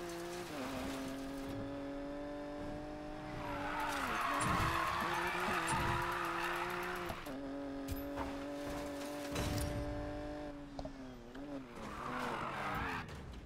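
A car drifts through a drift zone in Need for Speed Payback, its engine holding a high, steady whine while the tires squeal in long, loud bursts. Someone talks over parts of it.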